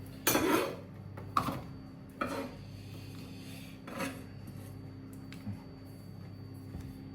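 A knife cuts through a red onion on a board: a few separate crisp chops and scraping strokes at irregular intervals, close but fairly quiet, with no voices.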